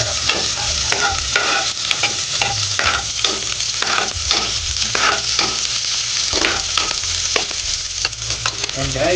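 Garlic and onion sauté in a pan for fish tinola, with a steady close sizzle and frequent scraping stirs that click and tap at an uneven pace throughout.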